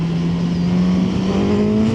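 A 2025 Suzuki GSX-S1000 motorcycle pulls hard in second gear, its engine note rising steadily in pitch as it accelerates, loud and continuous, with wind rush underneath.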